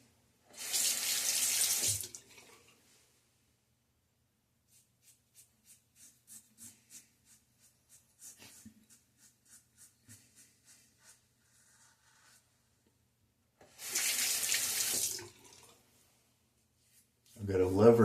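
Water runs from a lever faucet into a bathroom sink in two short bursts, a near rushing splash at the start and again near the end, with quiet tapping and brief talk between.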